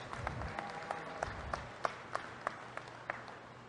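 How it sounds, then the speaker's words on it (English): Scattered clapping from a livestock show audience applauds junior heifer exhibitors, fairly faint and distant, with a few sharper individual claps standing out. "Give these junior exhibitors a round of applause for such a strong set of heifers."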